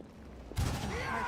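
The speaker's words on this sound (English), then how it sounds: "Lan, shoot him" A single gunshot fired at an enemy in a fantasy party role-playing video game, a sudden loud burst that decays into a ringing tail.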